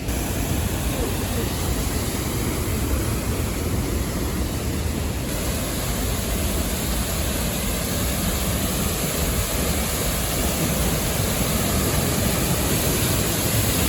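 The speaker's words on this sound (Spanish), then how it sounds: "Mira, ahí hay otra cascada." Heavy water from a waterfall in Chile pours continuously, a dense, loud, unbroken roar with no other clear sounds over it.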